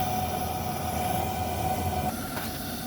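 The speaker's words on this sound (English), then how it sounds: "Put the steam blower on." The steam blower on the Mazeppa steam locomotive gives a steady, loud hiss with a constant rushing roar underneath, continuous throughout with a slight shift in tone near the end.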